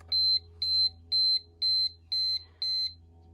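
A work timer beeps six times in an even rhythm, each tone high, shrill and about a quarter-second long, over a low steady hum with no voices.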